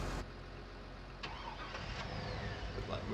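A farm truck's engine in Farming Simulator 19 cranks and catches, then settles into a steady mid-pitched idle with a slight rev, close and clear.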